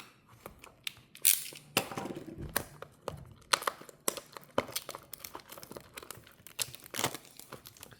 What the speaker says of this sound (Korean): 위에서부터 이렇게 칼로 슉.